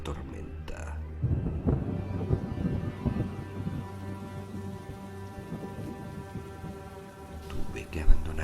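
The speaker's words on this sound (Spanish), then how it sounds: "en ese momento comenzó la violenta tormenta." Violent storm with heavy rain pouring steadily on surfaces and rolling thunder rumbling low, a sharp louder crack near the end, with a voice speaking over the downpour.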